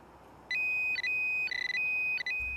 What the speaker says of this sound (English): the Pro Pointer 2 will sound an alternating dual-tone alarm